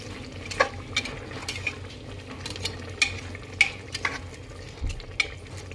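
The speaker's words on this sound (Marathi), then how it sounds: "परत एकदा मिक्स करून घ्यायचं।" A spoon repeatedly scrapes and stirs through a coriander rice mixture in a pressure cooker pot, giving a series of close, rhythmic scuffs and soft metal knocks over a faint simmering background.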